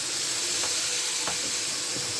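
A paella base sizzles hard in a wide pan, a dense, continuous loud frying hiss with a few faint clicks of a utensil, no voices over it.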